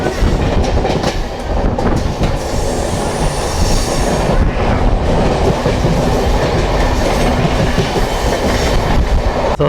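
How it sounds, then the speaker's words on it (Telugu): Passenger train from Secunderabad toward Vijayawada rounding a curve near Ghatkesar, with a steady loud rumble of wheels on rails, rhythmic clickety-clack and faint wheel squeal throughout, heard from on board. "మన ట్రైన్ కరువు తీసుకుంటుంది"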